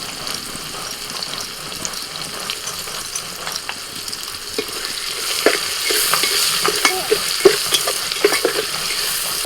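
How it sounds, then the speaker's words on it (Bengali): Spice paste with ground coriander, turmeric and red chilli sautés in a pan for South Indian rasam rice, a close sizzle with scattered spatula clicks and stirring that grows busier and louder toward the end. "মশলাটা বেশ কিছুক্ষণ কষিয়ে নিয়ে"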